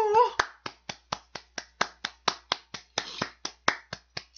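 A livestreamer's hands clap steadily about twenty times in an even rhythm, close and crisp, with a brief voice at the start.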